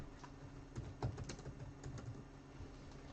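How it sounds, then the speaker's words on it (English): Fingers tap on a laptop keyboard in quick, uneven bursts of soft clicks, close by over a steady low hum, with no talking. "I'm terrible with typing while standing over this laptop"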